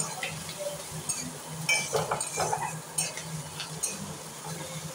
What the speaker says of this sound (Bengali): বেশ কিছুক্ষণ ধরে পেঁয়াজটা কিন্তু ভাজতে হবে।